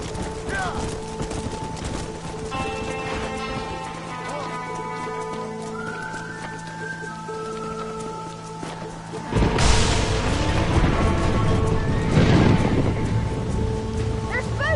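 Stampeding horses in the Red Dead video game, a continuous rumble of galloping hooves that surges louder partway through, with a layer of music and voices talking over the herd.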